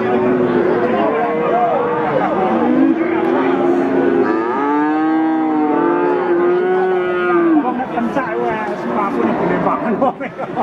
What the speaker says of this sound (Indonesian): Dan inilah deretan sapi-sapi tanggung, teman-teman, yang ada di pasar sapi Magenan.